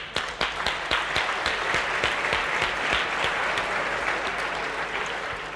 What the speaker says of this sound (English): so some extra applause for Philip